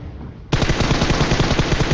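Rapid DP gunfire in a shooting video game: a sudden loud burst of automatic shots in quick, even rhythm after a short, quieter lead-in.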